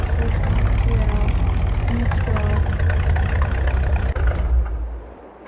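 A TLX 2022 truck's 6.2L V12 engine idles, a loud, steady low rumble that continues evenly before fading out near the end.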